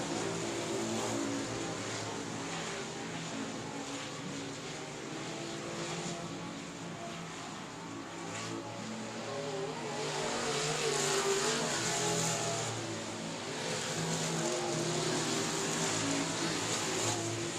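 Limited late model race cars roar around a speedway oval in a main event, a steady, distant engine drone that swells and fades as the pack passes, with no talk over it.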